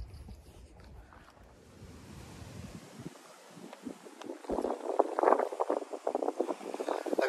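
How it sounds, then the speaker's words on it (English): Gusty wind buffeting outdoors, starting as a low rumble and growing into louder roaring bursts, with no one speaking. "Now it's really windy this afternoon."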